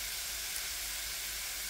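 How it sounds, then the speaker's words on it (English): Crumbled sausage sizzles and browns in a hot pan, giving a loud, even, unbroken hiss throughout. "I'm just basically breaking up the sausage as it's browning."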